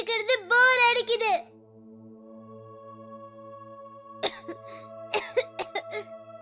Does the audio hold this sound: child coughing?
yes